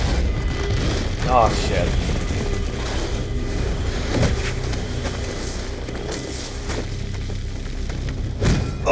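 Grenade explosions in Call of Duty: Black Ops II: several deep booms and thuds land over a continuous roar of combat noise, with a short spoken exclamation partway through.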